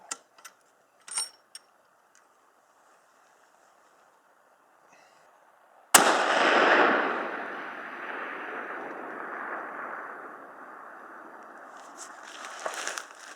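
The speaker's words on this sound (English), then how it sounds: "I'll shoot one more at the same setting." A rifle shot fired during precision bullet testing at distance: a faint click or two, then a single sharp, loud crack with a long rolling echo that slowly fades over several seconds outdoors.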